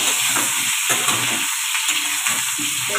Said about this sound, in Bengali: রেখে ওইদিকে আলুটা ভাজবো